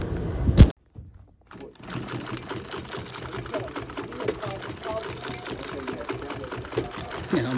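A repaired sewing machine gives a sharp thunk, falls briefly silent, then starts up and runs continuously with a close, steady whirring stitch rhythm.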